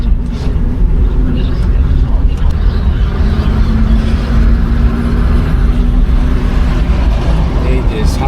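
A car cruising along the Kona highway, a loud steady engine and road drone with constant tyre rumble, close and unbroken throughout.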